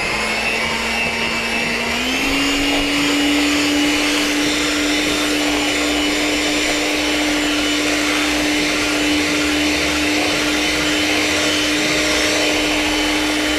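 An electric mixer whirring steadily through a banana pudding mixture made with sweetened condensed milk, a loud continuous drone that steps up slightly in pitch early on and runs alone without talk.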